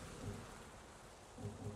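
Rain falls steadily in the video game Avatar: Frontiers of Pandora, a quiet continuous hiss with low rumbles of thunder rolling softly beneath it.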